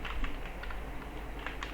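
Light, quick key clicks from a computer keyboard tap out a short run over faint background hiss.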